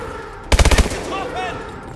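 A rapid burst of about six gunshots in Call of Duty: Advanced Warfare rings out, followed by a short echoing tail and faint game sounds.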